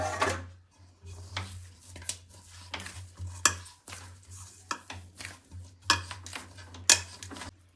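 A spoon stirs and mixes potato stuffing for aloo paratha in a pot, giving irregular scraping and clinking strokes close by, with a low steady hum underneath.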